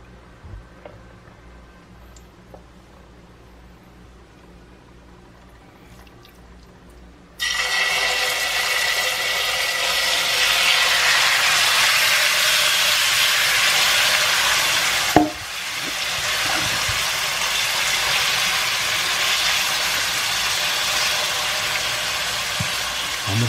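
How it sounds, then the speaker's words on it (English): A pork chop drops into a hot pan and sears with a loud, steady sizzle that starts abruptly after a quiet stretch, holding close and constant with a brief knock partway through. "Go ahead and let this sear to my liking."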